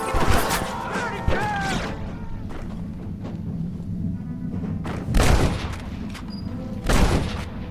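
Gunfire in Red Dead Redemption: a few sharp, loud gunshot bursts with thuds separated by quieter in-game ambience, the heaviest shots at the start and two more later.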